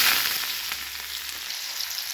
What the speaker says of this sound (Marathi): जिरे टाकून झाले की आपल्याला हे कांदा कट केलेला त्याच्यामध्ये टाकायचा आहे